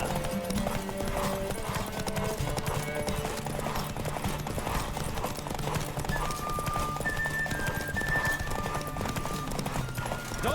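Horse galloping in The Witcher 3 video game, a continuous rhythmic clip-clop of hooves under a steady music score, loud and sustained throughout with an occasional whinny.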